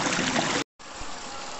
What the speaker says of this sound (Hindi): ये झरना आ रहा है, और बहुत ही स्वच्छ अंदर से पानी आ रहा है, कल कल करता हुआ बह रहा है